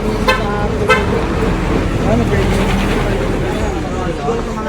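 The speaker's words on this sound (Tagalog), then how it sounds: "Traffic lang." Steady roadway traffic rumbles past in a Philippine street, with engine drone throughout and a couple of short horn toots near the start, while someone talks over it.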